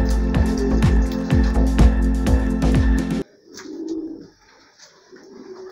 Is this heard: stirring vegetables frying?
no